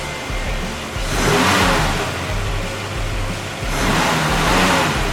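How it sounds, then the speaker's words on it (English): A 1965 Ford Falcon's engine revs hard in two loud surges around a steady idle, close by, with no talking. "It sounds like a cool race car."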